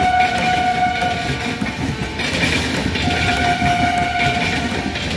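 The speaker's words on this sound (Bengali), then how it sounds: "একবার রেলওয়ে ট্র্যাকের সাউন্ডটা শুনুন" An express train runs over the tracks at Dum Dum Junction on a rainy night, a loud, continuous rumble with clattering wheels and a sustained horn tone sounding near throughout.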